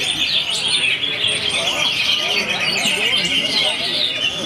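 Green leafbird (cucak hijau) at a songbird competition singing continuous high, rapid chirps and trills, loud and close, over a steady background of crowd babble.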